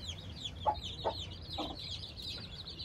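A hen softly clucks a few times among her chicks, low and close, while the chicks cheep continuously in a high-pitched chorus.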